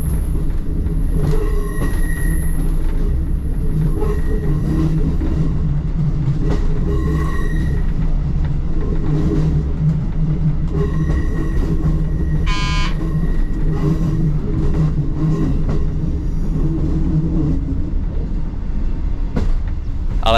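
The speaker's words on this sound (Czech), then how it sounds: "Ale hezky to zní na těch nesvařovaných kolejnicích." Train wheels roll steadily over unwelded jointed track on the Choceň–Vysoké Mýto–Litomyšl line, with a constant rumble, occasional rhythmic clicks and a brief high metallic squeal partway through.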